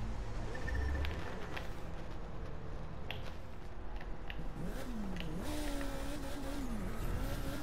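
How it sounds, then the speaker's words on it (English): A race car engine in a racing video game on an airport track revs and drones continuously, its pitch sweeping up and down over steady road noise. "This one's a race car."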